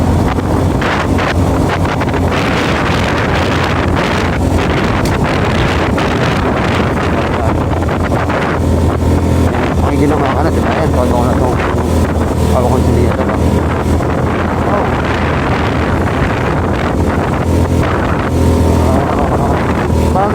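A Honda Beat FI v2 motor scooter climbs a steep uphill road near Akle in Bulacan, its engine drone running steadily beneath heavy wind buffeting on the microphone for the whole ride.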